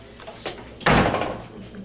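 A door opening and swinging as a knee patient walks out of a clinic room, a soft click followed by a fuller thud and brief rush, close and moderately loud, with no talking over it.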